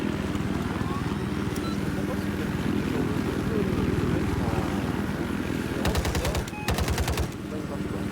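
A helicopter's steady thudding rotor drone fills a video game scene, joined near the end by bursts of rapid machine-gun fire, with a person talking throughout.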